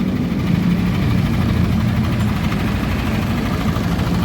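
A Yamaha NMAX scooter engine idles steadily nearby, a continuous low rumbling drone with a fine regular pulse and no throttle changes.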